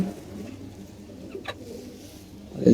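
Soft, low pigeon cooing close by in a quiet room, from a female pigeon, with a brief faint chirp midway and a louder coo at the end.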